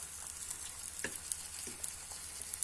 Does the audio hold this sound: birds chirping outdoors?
no